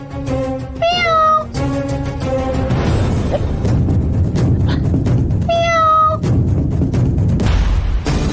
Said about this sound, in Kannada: ಬೆಕ್ಕು ನಿದ್ದೆ ಮಾಡಕ್ಕೆ ಬಿಡ್ತಿಲ್ಲ